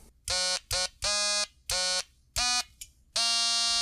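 A portable synth patch playing loud buzzer-like alarm tones, five separate harsh buzzing blasts of varying length with short gaps, ending on a sustained final buzz, heard alone.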